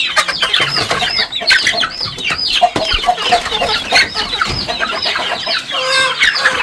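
Young chickens one to two months old cluck and chirp continuously at close range, many overlapping rapid calls forming a busy, loud chatter with occasional soft thumps.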